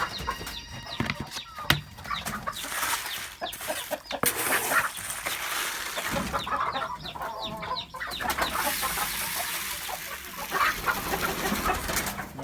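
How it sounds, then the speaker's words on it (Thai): Thai native chickens clucking and cackling nearby in a home garden, with bursts of wing flapping and scattered bird calls over a busy outdoor background. "มาเบิงไก่บ้าน เลี้ยงไก่บ้านไว้"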